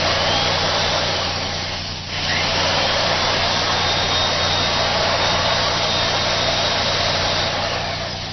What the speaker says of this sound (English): This is a vacuum cleaner,